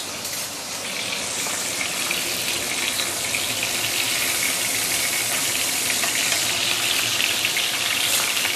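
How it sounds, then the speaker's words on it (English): Fish for sambal fish pan-frying in oil over medium heat, giving a steady, close, continuous sizzle and hiss with no breaks and no talking. "So I'm using medium heat right now to slowly pan fry it"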